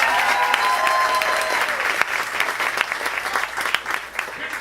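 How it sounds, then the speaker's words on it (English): An improv show audience claps in a sustained round of applause, loud and close, with dense hand claps that thin out slightly toward the end. "Everyone give them one round of applause."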